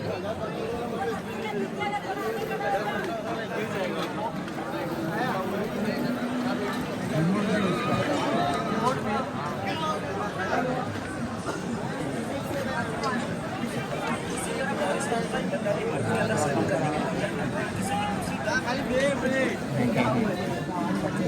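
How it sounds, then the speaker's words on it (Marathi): A crowded electronics market at Chor Bazaar fills the air with dense, continuous chatter from many voices and general bustle, loud and unbroken throughout. "बघू शकता इलेक्ट्रॉनिक मार्केट मध्ये आलोय. इलेक्ट्रॉनिक वस्तू भरपूर खूप गर्दी आहे."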